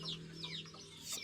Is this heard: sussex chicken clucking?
yes